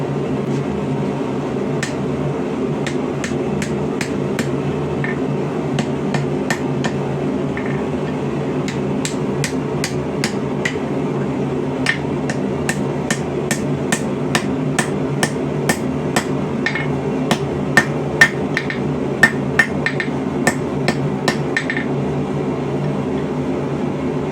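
A hammer forges a rebar snail scroll on an anvil: bright metallic strikes fall in quick rhythmic bursts separated by short pauses, over a steady background hum.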